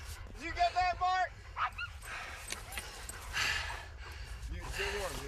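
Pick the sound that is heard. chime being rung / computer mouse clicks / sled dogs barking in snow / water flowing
sled dogs barking in snow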